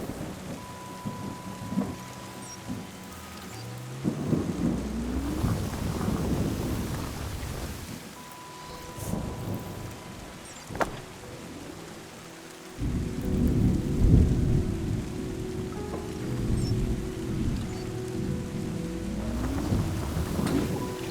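Rain and rolling thunder in the video game Terra Nil, with steady rainfall on surfaces and several deep thunder rumbles rising and fading, the heaviest burst late in the stretch, with no talking.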